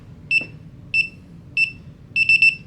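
Sharp electronic beeps from the keypad alarm of a Konig 1.0 gun safe, four evenly spaced single tones followed by a quick triple beep, close and clear over a low hum.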